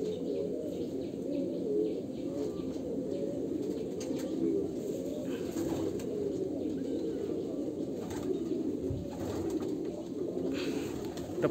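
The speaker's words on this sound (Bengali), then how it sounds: "আর একটা ফিমেল পায়রা আছে।" Pigeons cooing close by, a continuous low throaty warble from several birds layered over one another, with occasional faint chirps and a brief flutter of wings, no talk.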